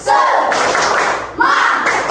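Group of people clapping hands in a lively rhythm during a school morning gathering, two bursts of dense, loud clapping with a brief dip between them, some voices mixed in.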